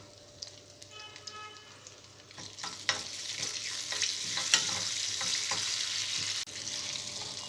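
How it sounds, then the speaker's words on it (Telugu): Garlic, curry leaves and dried red chillies drop into hot oil with tempering seeds for a sorrel leaf chutney and sizzle. The frying rises to a steady, close crackle, with occasional stirring knocks and no speech. "వెల్లుల్లిపాయ, కరివేపాకు, ఎండుమిర్చి వేసుకోవాలి."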